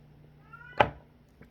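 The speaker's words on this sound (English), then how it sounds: "do you hear my cat?" A pet cat gives one short, sharp meow close by, with a rising tone just before it and a faint second chirp a moment later, against a quiet indoor background.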